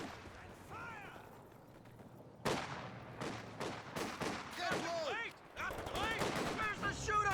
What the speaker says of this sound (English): MG34 firing away.